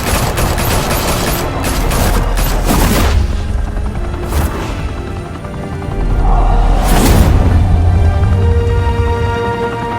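Dense gunfire from the video game Batman: The Telltale Series, a rapid fusillade of loud overlapping shots with booming impacts, continuous and close throughout about ten seconds.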